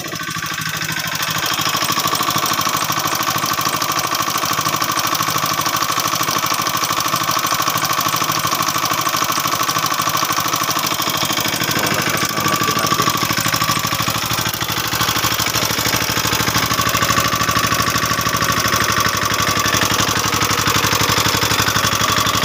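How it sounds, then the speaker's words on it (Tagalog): A loud engine runs continuously at a steady pitch with a constant mechanical drone and no pauses, heard alone with no talking. "Lakas lang yung makina."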